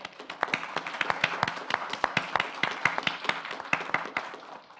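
Applause from a small audience at a business talk on AI myths, honouring a small business development centre team; sparse, distinct hand claps in an uneven patter, fairly close, lasting throughout with no talking.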